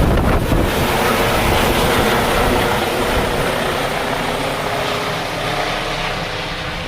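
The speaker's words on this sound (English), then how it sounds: "That's some strong wind." Strong coastal wind near Nag's Head on the Outer Banks roars and buffets the microphone continuously, a loud, broad rushing blast with deep low rumble and no voices.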